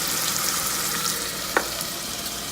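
Garlic sizzling in a pan alongside seasoning of kosher salt and black pepper, an even close hiss of frying with a single sharp stir or tap partway through.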